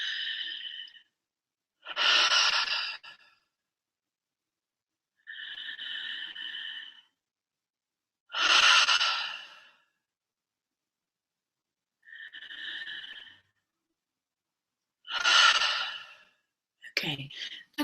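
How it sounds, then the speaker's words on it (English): Three slow, deep breaths are taken through the mouth in a guided breathwork session, each a loud, close inhale followed by a longer, breathy exhale, separated by silent pauses. "I'd like to start with a few deep breaths"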